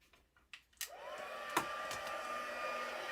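A heat tool switches on after a few soft clicks and ramps up to a steady, fairly quiet whooshing whine as it heat-sets paint.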